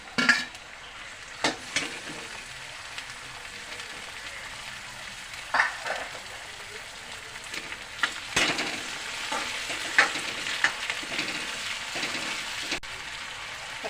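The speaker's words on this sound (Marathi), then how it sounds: "आता टमाटर टाकते. कांद्याबरोबर टमाटा भाजायचा." Tomatoes fry with onions in a pan for a traditional Maharashtrian kat vada, giving a soft continuous sizzle broken by occasional scraping stirs and light clinks of a spoon.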